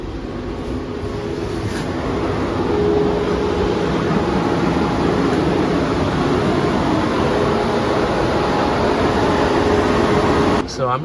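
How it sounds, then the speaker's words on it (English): A Tesla Model Y or Model 3 cooling fan runs during a service-mode battery health test, a loud, steady broadband whoosh that holds evenly throughout and ends with a brief clunk. "Oh, there's the fan going."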